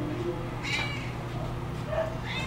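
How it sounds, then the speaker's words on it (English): Small cats give a few short, high meows, two or three close calls over a steady background hum. "These little kitties, little cats."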